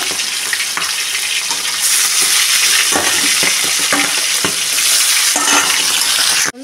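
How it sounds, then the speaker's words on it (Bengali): Fish heads frying in hot oil in a wok, a loud continuous sizzle and spatter broken by repeated stirring scrapes and knocks, close and unbroken by speech. "এখন আমি মাছের মাথাগুলো সব দিয়ে ভেজে নেব।"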